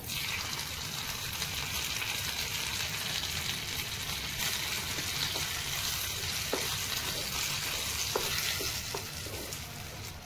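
Cashews and curry leaves sizzle in a ghee tempering for a sabudana ragi kichidi, a dense steady close hiss with a few light pops, fading slightly at the end.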